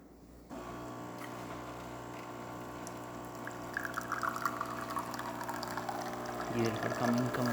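Espresso trickles from a Jura Impressa S8 coffee machine after a full tune-up, a thin liquid stream pouring over the steady hum and whine of the machine's pump, getting slightly louder and more sputtery toward the end.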